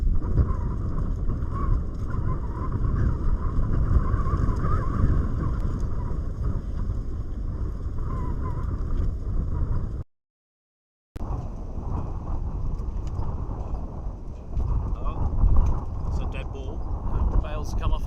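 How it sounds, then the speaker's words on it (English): Strong wind buffeting the microphone at a cricket ground during an over-50s international match, a loud continuous roaring rumble with one brief dropout, under commentary voices. "The wind's really picked up here. It's very windy now."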